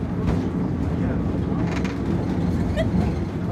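A mountain train climbing a steep slope on a fall New England trip, a continuous low mechanical rumble and rattle from inside the car, with faint voices in the background.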